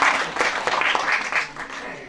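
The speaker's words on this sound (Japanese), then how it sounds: "ここも皆さん拍手をするとこですよ。" Audience clapping during a kagura performance of "Modoribashi" by the Ōtsuka Kagura troupe at the Kawachi Shrine autumn festival, a brief burst of hand claps in uneven bursts, fading toward the end.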